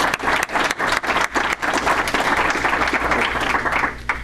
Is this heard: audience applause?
yes